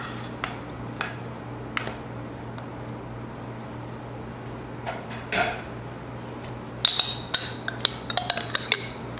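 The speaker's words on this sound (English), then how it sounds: "I put the piping hot oatmeal on top of the frozen berries, and they melt quite quickly" Piping hot oatmeal is spooned onto frozen blueberries in a bowl: soft scrapes and scattered spoon clinks against the dish, close and quiet, then a quick cluster of sharper taps near the end.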